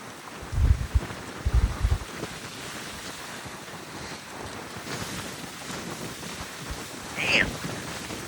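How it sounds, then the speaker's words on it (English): Rough Northeast Atlantic surf with strong wind gusts, waves crashing low and heavy in bursts near the start and again later, over a steady rush of wind buffeting the microphone. "Those waves are getting angrier over there."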